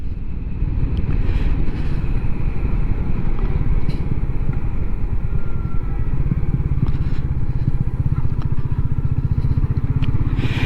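A Royal Enfield Meteor 350 is ridden in freezing, sub-zero weather just after a service, its engine thumping in a steady close rhythm beneath continuous wind buffeting, with no speech.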